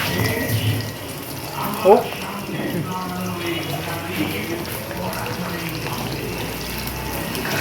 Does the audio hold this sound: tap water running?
yes